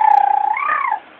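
A kitten gives one drawn-out meow that rises and falls in pitch, close and fairly loud, with no talk.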